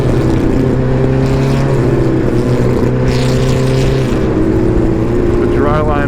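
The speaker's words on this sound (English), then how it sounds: "A little wheel spin there." A race car on a wet track at Summit Point Raceway, engine droning loud and steady from inside the cockpit with tire spin and water hiss, while a voice talks throughout.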